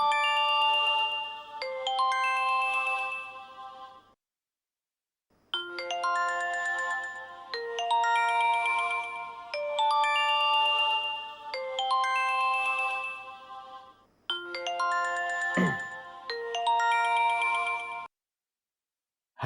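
A telephone rings in a Pakistani TV drama scene with a repeating melodic electronic ringtone, several phrases separated by brief silences, clear and alone, with a short thump partway through.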